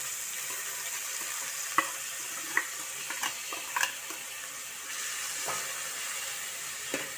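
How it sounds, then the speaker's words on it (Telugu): Onions frying in oil with cumin for a homemade samosa filling give a steady hissing sizzle, with a few scattered clinks and scrapes from stirring. No one talks. "ఈ ఆనియన్స్ అయితే బాగా వేగాల్సిన అవసరం లేదు, దూరగా వేగితే చాలు."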